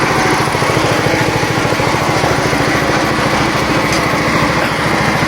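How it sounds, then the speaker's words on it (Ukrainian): Homemade branch chipper chopping branches, a loud, continuous rattling engine drone with a fast regular chatter, close by and steady throughout, no speech. "тестується наш станочок. Вже десь около години він тарахтить. Ріже він е, ветки."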